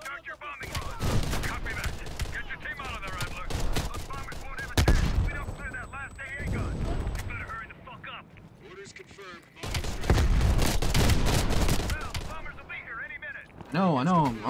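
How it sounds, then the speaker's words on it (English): Heavy machine gun fire rattles in rapid sustained bursts during a Call of Duty: Black Ops Cold War campaign battle, loud and near, mixed with other gunfire while voices talk over it. "Watch it. Heavy MG on the ridge."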